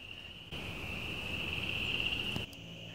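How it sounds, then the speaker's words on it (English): A single rising, rasping trill of an upland chorus frog rings out for about two seconds in early spring in North Carolina, clear and fairly close against a quiet backdrop. "Often the first frogs to begin calling during the spring transition"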